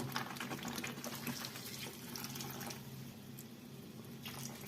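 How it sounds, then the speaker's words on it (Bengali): Hot water is poured into a cooking pan of potato dal with egg bhuna, a steady liquid rush running throughout at moderate level, with no talk. "এখন এখানে আমি পানি দিব"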